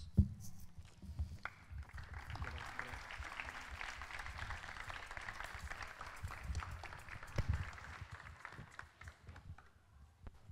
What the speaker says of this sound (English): Could we please give them another round of applause?